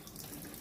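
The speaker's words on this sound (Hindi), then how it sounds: "नल को हमने फिर से ऑन किया और देखिए पानी हमारा वाशटब में भरने लगा" Tap water runs steadily into the tub of a washing machine, a continuous close hiss and splash with no voices.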